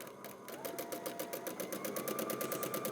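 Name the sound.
sewing machine stitching in place to lock quilting thread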